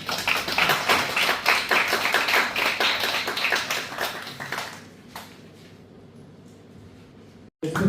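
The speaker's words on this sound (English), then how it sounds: "Let's give another round of applause." After a talk, an audience in a hall breaks into a few seconds of lively clapping that gradually dies away into a quiet, nearly silent room, followed by a brief dropout and some renewed sound at the very end.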